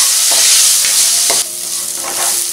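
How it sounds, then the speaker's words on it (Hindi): Chopped onions for pav bhaji sizzle and fry in a pan at close range, a loud steady hiss broken by the scrape of a spoon stirring them every second or so. "अब हम इसमें डालेंगे प्याज, अच्छी तरीके से मिक्स कर लेते हैं और इसे गोल्डन ब्राउन होने देते हैं।"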